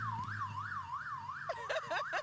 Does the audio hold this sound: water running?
no